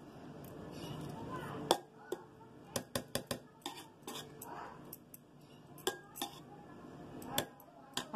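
Restaurant-style mixed fried rice is tossed in a pan, with irregular sharp clinks and knocks of a metal utensil against the pan over a quiet background hiss.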